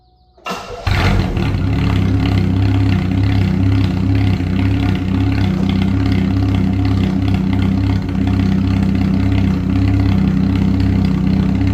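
A Pontiac Sunbird with no muffler starts up, then settles into a loud, raw, throbbing idle that holds steady up close, with no voices.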